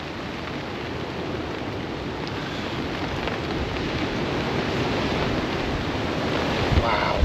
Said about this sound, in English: Wow, that wind.